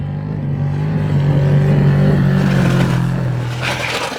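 A truck engine held wide open in third gear through a corner on a desert trip near Barstow drones loudly and steadily, its pitch rising slightly before easing off near the end.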